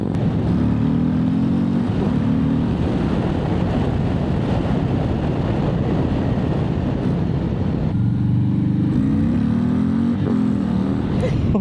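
Harley-Davidson CVO Street Glide ST motorcycle ridden hard, its engine a steady loud low rumble with rising harmonic sweeps as it pulls through gears, constant wind roar over it throughout.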